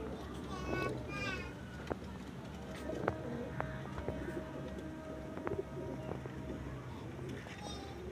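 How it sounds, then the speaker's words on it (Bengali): An old line-bred pigeon coos softly in short bursts, a low burbling call heard close amid faint background chatter of children and other birds. "এটা হচ্ছে সেই আমার পুরাতন লাইনের পায়রা"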